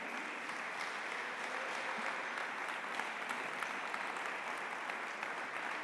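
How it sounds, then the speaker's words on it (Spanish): A church congregation claps for the Lord during a Spanish-language sermon, giving steady, dense applause that holds at an even level throughout with no speech above it. "dele fuerte aplauso al Señor"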